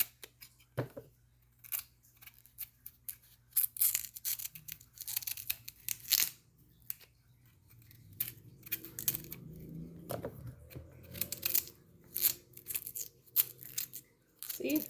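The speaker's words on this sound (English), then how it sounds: "You put the knife in between these area and you start to peel." A knife peels cassava skin in a series of close, crisp scraping and tearing snaps with short pauses between, followed by a softer, longer rustle of skin lifting away.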